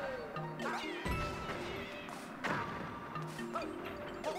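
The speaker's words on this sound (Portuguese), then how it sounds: "Esses Bullet Bill miando" Meowing Bullet Bills in Super Mario 3D World let out a few short, cat-like cries with thuds mixed into busy game music.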